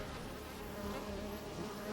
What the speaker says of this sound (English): no, it's just bees